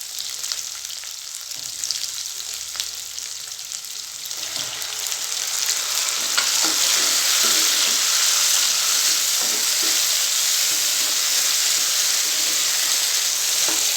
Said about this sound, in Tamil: இப்போ நான் தக்காளி பியூரி ஆட் பண்ணிக்கிறேன்.